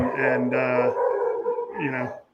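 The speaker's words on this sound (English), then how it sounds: "thanks to those dogs. Hey, good timing with them" Dogs barking and howling close by, in two drawn-out tonal bursts of yelping cries with a short pause between them.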